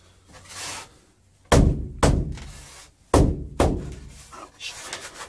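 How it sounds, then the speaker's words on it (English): A mallet bangs rigid foam insulation into place inside a van under construction: four heavy, close thuds at irregular intervals, each ringing briefly, separated by quieter handling noises. "Get the mallet. Hope the camera doesn't fall when I bang it."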